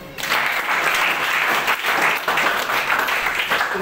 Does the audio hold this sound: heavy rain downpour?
no